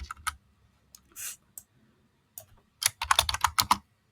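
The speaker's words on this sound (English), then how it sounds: "here I can just type in instruction" Quick bursts of typing on a computer keyboard, close and crisp, with scattered single clicks at first and then a dense flurry of keystrokes toward the end, with no talking.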